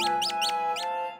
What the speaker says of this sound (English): The squeaking had stopped.